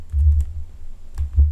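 Code being typed on a computer keyboard gives a short run of close, soft key clicks in two quick clusters with a brief pause between them.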